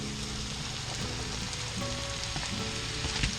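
A pan of Shaggy Mane mushrooms fries in melted butter with a steady, close sizzle and crackle that stays even throughout, with no voices.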